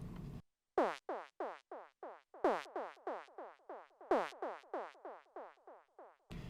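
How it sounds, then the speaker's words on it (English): Squelchy psytrance synth grid sound designed in Serum: a rapid rhythmic pattern of sharp, resonant filter-swept blips, clean and loud, with short gaps between accented groups and no voices. "So the squelch itself sounds like this."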